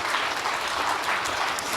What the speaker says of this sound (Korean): 혼신의 힘을 다하신 우리 가브리엘 찬양대에게 박수 한번 보내줬으면 좋겠습니다